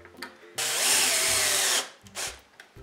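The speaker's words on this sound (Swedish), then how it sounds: "Då sätter vi de här små skruvarna här." A power drill drives small screws into wood while a dog activity toy is built: a loud whirring burst of a little over a second, with faint clicks and handling knocks before and after.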